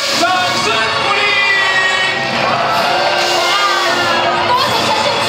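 A crowd at the premiere of the TV drama 'Duo Qing Cheng Shi' cheers loudly, with excited shouts, whoops and overlapping voices rising and falling over steady crowd noise.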